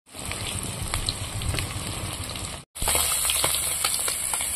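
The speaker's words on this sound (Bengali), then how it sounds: "বন্ধুরা, দেখুন মাছগুলো সুন্দর করে ভেজে নিয়েছি" Tengra fish frying in hot oil in a covered pan, village-style: a steady, dense sizzle and crackle with scattered pops, briefly cut off, then resuming louder and brighter.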